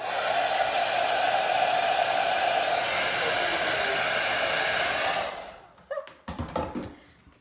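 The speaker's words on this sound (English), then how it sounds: "So I keep my blow dryer here actually, so it's handy." A handheld blow dryer on its warm setting blasts with a loud, steady whirring rush for about five seconds, then switches off, leaving a few soft handling clunks nearby.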